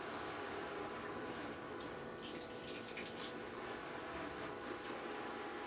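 Steady water spray from a Mr. Heater Aquacube portable shower head running hot, a continuous close hiss that holds even and alone throughout.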